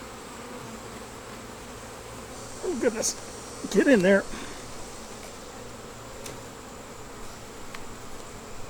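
A steady buzz of many honeybees fills the air around a hive being moved, with a brief louder swell as bees fly close; a person speaks briefly over the humming.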